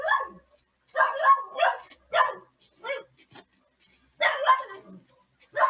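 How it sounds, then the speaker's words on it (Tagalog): A dog barks repeatedly in irregular bursts of sharp, close, loud yaps and whimpering yips, with brief pauses between volleys. "Malamang, aso yan, tatahol yan."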